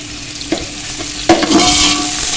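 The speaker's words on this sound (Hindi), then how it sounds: "थोड़ा सा भून लेना ताकि प्याज का जो कच्चापन है ये खत्म हो जाए" Two medium onions, sliced and dropped into a cup of hot oil in a pan, fry with a loud steady sizzle while being stirred, with a couple of sharper clatters of the spoon and no voices.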